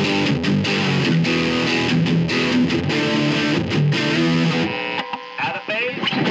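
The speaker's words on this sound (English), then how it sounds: "this is what it sounds like with my amp distortion" A 1970s Kay/Univox Effector Les Paul electric guitar played through amp distortion, loud sustained overdriven chords and riffs with thick harmonic buzz, thinning toward the end.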